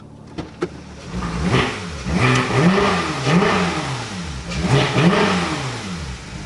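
Porsche 991 GT3 with a Brombacher side muffler, valve delete and stock center muffler, its engine revving in repeated rising and falling blips after a couple of sharp clicks, loud and close with no talk.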